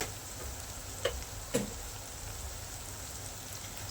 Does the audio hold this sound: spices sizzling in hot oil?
yes